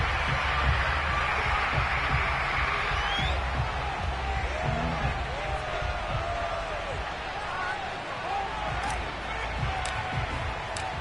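Stadium crowd noise from an EA Sports football video game, Cowboys at Redskins, a steady loud roar of cheering that fills the whole stretch, with scattered whoops and faint game sounds over it.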